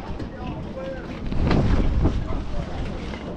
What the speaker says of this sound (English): it's a bit windy up here today